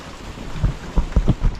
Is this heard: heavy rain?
yes